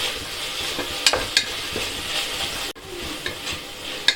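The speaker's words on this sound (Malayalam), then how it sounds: "ഇനി ഈ സവോളയുടെ കളറൊക്കെ ഒന്ന് മാറി നന്നായിട്ടൊന്ന് വഴന്ന് വരുന്നവരെ നമുക്കൊന്ന് ഇളക്കി കൊടുക്കാം" Onions frying with ginger and garlic in a pan for tomato rice, a close sizzle with a few sharp scrapes and clacks of a spoon against the pan, no talking.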